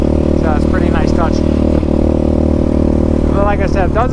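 A Yamaha Raptor 700R SE ATV fitted with a Dasa exhaust and no spark arrestor runs at a steady, loud, close idle that fills the whole stretch, with someone talking over the drone.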